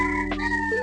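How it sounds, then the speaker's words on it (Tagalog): A rooster crows in a long, strained call close by, with sustained tonal harmonics, outdoors where chickens roam a provincial-style neighborhood. "pasensya na sa tilaok ng manok kasi parang nasa province kasi may mga manok sa paligid."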